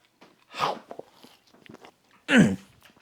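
Close, loud biting and chewing of smoked chuck roast burnt ends, cooked 11 hours on a Weber kettle: a crunchy bite around half a second, scattered wet chewing clicks, then a second heavy bite near the end, with no talk.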